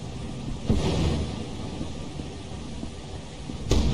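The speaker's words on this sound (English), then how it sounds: "Oh, this is stormy." A thunderstorm in the video game Lethal Company: a steady hiss of rain, with a sharp thunder crack near the start and another near the end.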